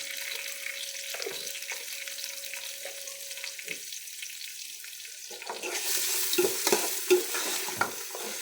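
Sliced onions frying with salt in a pan, stirred steadily with a spatula; a low continuous sizzle gives way to louder scraping and crackling stirs in the last few seconds, no talking.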